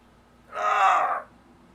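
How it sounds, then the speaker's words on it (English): A single drawn-out human yawn, a voiced rising-and-falling exhalation lasting under a second, close and fairly loud against a quiet background. "That was yawn."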